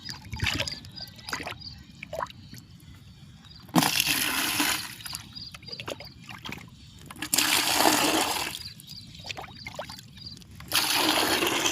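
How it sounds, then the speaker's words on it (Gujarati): Water poured from containers in several separate gushing bursts to dissolve a fungicide powder, each pour a close rushing splash between quieter gaps of trickling and handling. "ચૌદ ડબલ પાણી રેડવાનું છે આપણે"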